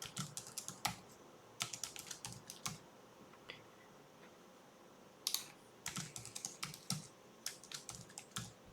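Computer keyboard typing in quick irregular bursts of keystrokes, close and fairly quiet, with short pauses between clusters while entering a password.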